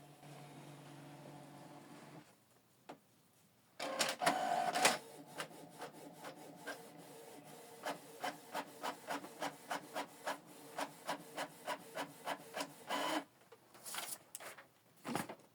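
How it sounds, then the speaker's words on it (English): A Canon Pixma MG2556S inkjet printer from the MG2500 series prints a test page. A loud mechanical whir comes first, then a long run of regular, rhythmic clicking strokes as the print head moves back and forth. Nearby and clear, with no talking. "So we're going to print a test page."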